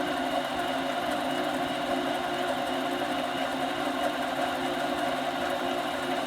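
A metal lathe running while cutting threads, a steady mechanical whir and hum with even rhythm, close and constant throughout.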